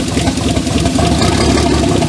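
Holden VL turbo car engine running with no exhaust fitted, a rough, loud, close mechanical drone that stays steady as the accelerator is pressed.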